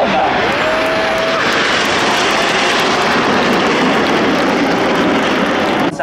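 Frecce Tricolori MB-339 jets fly a display at the Jesolo Air Show, a loud continuous engine roar filling the air while an announcer talks over it.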